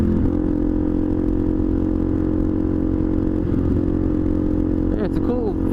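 A Suzuki DRZ400E dirt bike engine runs with a steady, loud, close-up drone and never drops away, with a little clatter near the end.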